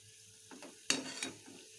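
Cutlets fry quietly in a pan, a soft sizzle broken by a few brief scraping touches, the loudest near the middle, close but faint overall.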